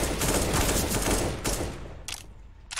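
Rapid bursts of gunfire from a Counter-Strike: Global Offensive match, dense and loud at first, then thinning into a few separate sharp shots toward the end.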